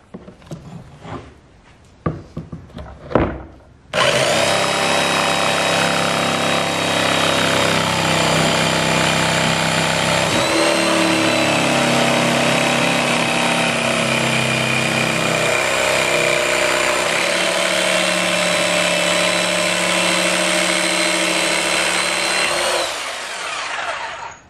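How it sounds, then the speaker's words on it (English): A jigsaw cuts PVC birdhouse parts, starting after a few light knocks and then running as a loud, steady, buzzing whine for about twenty seconds before cutting off. "And my intention is I'm going to use like a jigsaw to cut these out a bit proud."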